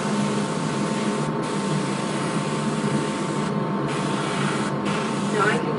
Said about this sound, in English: Where your airbrush doesn't want to put out very much paint, a great moment to do the shading in the muscles